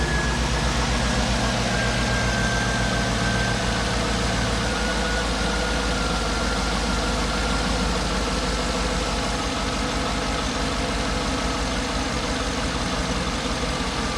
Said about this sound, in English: I'm just going to fire it up at idle